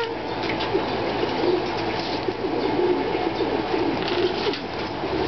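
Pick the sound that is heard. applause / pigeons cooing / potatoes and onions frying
pigeons cooing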